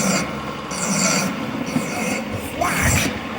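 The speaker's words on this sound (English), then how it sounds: "I'm making steel nice and true on the edge and cleaning the burrs" A hand file rasps across a steel edge to clean off burrs, repeated back-and-forth strokes at a steady rhythm, close and fairly loud, with a brief scraping clatter near the end.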